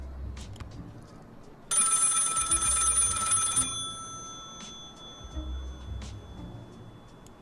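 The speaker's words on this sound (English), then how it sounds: "Pick up the phone." An old-style telephone bell rings in a video game, one loud metallic trill lasting about two seconds over quiet game ambience with faint clicks.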